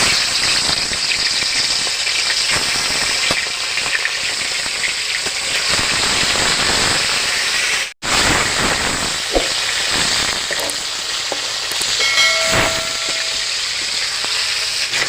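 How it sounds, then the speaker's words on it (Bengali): Prawns fry lightly in mustard oil in a hot kadai, giving a loud, close, steady sizzle with crackling spits throughout and one brief break partway through. "আমি এবার মাছগুলো হালকা পরিমাণে ভেজে নেব"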